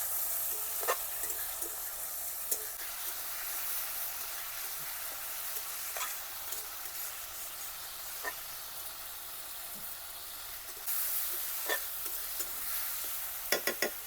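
Masala of ground coriander, chilli and turmeric with a little water frying in a pan for a small river fish curry, giving a low continuous sizzle broken by occasional sharp spatula scrapes and taps.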